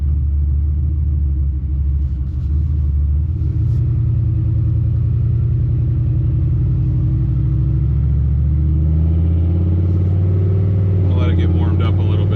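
A turbo Chevrolet Silverado pickup rumbles down the street with a deep, loud engine drone that swells as it accelerates, heard from inside the cab.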